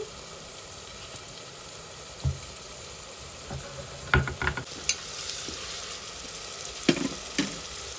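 Onions sizzle softly in a pan for a country chicken curry, a low steady fry broken by a few sharp clinks and scrapes of stirring, close by and without talk.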